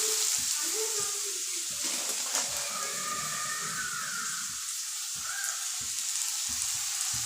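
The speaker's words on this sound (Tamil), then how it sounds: "நல்லா வதக்க வதக்க வதக்கணும் இவங்களை வதக்கிக்குவோம்" Sorrel (puli keerai) leaves sautéing in a pan give a steady soft sizzle, broken by light scraping and stirring taps from start to finish, close by with no talk.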